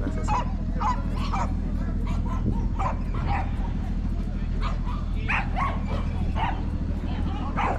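Dogs at a 2022 dog show in Guwahati bark and yip repeatedly from several directions over a steady low hum, with people talking throughout.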